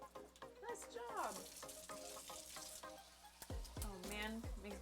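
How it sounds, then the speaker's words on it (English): Food fries in hot oil on a stovetop, a continuous crackling sizzle running beneath lively conversation and other voices that rise and fall over it. "And we're frying."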